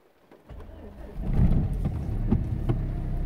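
A Renault Megane III engine cranks and catches after a push-button start, rising into a low, steady idle rumble with faint rhythmic pulses, close and moderately loud.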